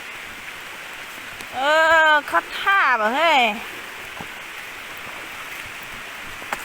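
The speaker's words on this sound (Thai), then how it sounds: "ฝนตกนะ" Rain patters steadily on surfaces as a soft, continuous hiss, while a person talks briefly over it in the middle.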